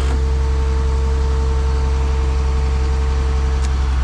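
A digger truck's engine runs at a steady idle, a constant low droning hum with no change in pitch, close and loud throughout with no talking.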